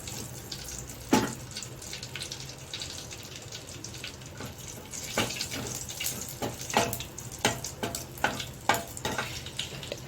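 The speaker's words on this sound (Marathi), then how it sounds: "आणि आता आपण याची फोडणी तयार करणार आहोत तर याच्यामध्ये मी तमालपत्र टाकत आहे" Bay leaf and green cardamom dropped into hot oil for a tempering for a chicken dish, a close steady sizzle broken by repeated sharp crackles and pops that grow busier toward the end.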